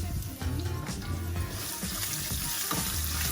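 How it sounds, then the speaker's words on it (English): Ginger drops into hot oil already sizzling with cumin seeds, giving a steady, loud crackling fry with bubbling and spattering that carries on throughout. "my wife's gonna put the ginger in"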